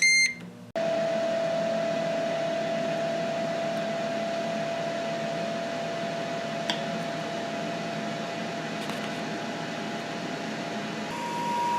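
A Ninja Foodi grill preheating, starting with a short beep and then a steady, loud fan-like hum with a faint tone that holds for about eleven seconds before a brief beep near the end.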